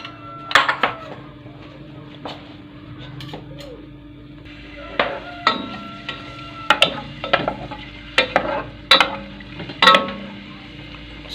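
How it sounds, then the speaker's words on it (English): Onions fry in a pot for rice and sausage curry, a low steady sizzle broken by sharp, irregular clinks and scrapes of a spoon stirring against the metal, close by. "So we are going to start by cooking our onions."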